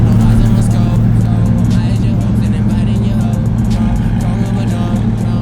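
A group of exotic sports cars, including a Porsche GT3 RS, a McLaren 720S Spyder and a GT-R, roll out together from a car meet, with a loud, close, steady engine rumble and indistinct voices underneath.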